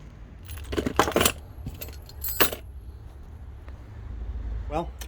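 Keys jangle in bursts as a set is sorted for a lockup at a fleet garage, with a faint engine hum and background noise underneath.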